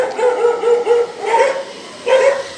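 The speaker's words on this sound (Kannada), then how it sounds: "ನಾಯಿಗಳು ಕಾಟ" Street dogs on an unlit road bark in a quick run of about five sharp, fairly close barks, with short gaps and no talking over them.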